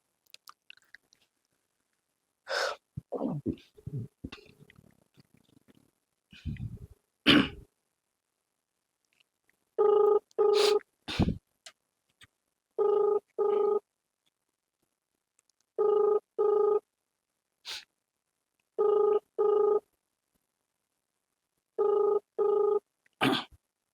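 A phone ringback tone sounds while calling a government revenue official, a series of clear double-pulse rings repeating at regular intervals, preceded by a few scattered handling knocks and clicks, with no voices.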